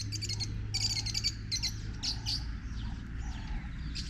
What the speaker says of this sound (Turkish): çok güzel kuşlar ötüyor